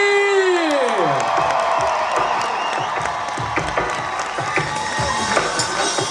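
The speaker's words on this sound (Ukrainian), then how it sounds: "Вітайте шаленими оплесками!" A lively crowd at a stage show breaks into loud applause and cheering, with dense clapping and whoops carrying on steadily as a tonal sound sweeps down at the start.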